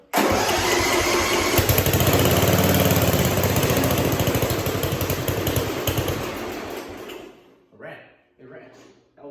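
A 1970s Sears lawn mower engine bursts into life and runs loud and close with a rough, steady chatter for about seven seconds, then cuts out, followed by people talking.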